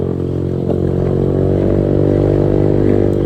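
Motorcycle fitted with a Tycom exhaust pipe idling loudly and steadily up close, a deep throbbing rumble with faint clatter, no talking.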